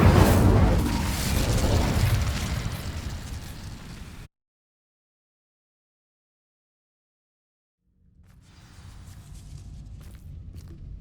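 In Hogwarts Legacy, the Incendio fire spell goes off with a loud fiery burst and roaring crackle, then cuts to a few seconds of silence before softer in-game ambience and movement return.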